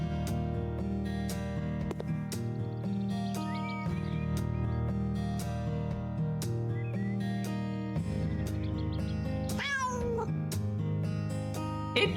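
A pet cat gives a couple of short, high chirping calls over steady background music, with the clearest chirp late in the stretch.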